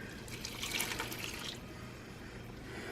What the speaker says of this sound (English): So I'm gonna put a little broth in here